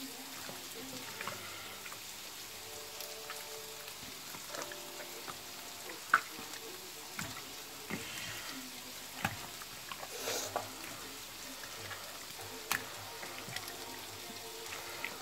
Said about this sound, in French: On va mélanger le tout.